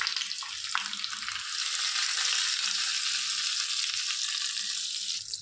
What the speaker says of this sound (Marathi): मस्त झालाय आपला तडका